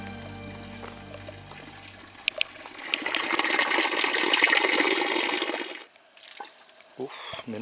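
Water gushes from a fountain beside a rest area on a winter stretch of the Camino de Santiago, a loud splashing pour for a few seconds that then cuts off abruptly, followed by quieter trickles and small bumps.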